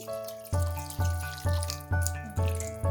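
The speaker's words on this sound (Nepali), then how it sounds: "र मैले यसमा राखेँ" Water poured into a cooking pan with fried peas for matar paneer gravy, about one cup: a steady running, splashing pour with repeated surges roughly every half second, close and fairly loud, with no talking.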